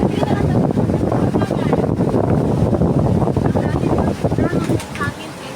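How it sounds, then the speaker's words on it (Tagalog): Strong wind buffets an outdoor microphone in a steady broadband roar, with people talking loudly over it throughout. "Ito, may hangin dito."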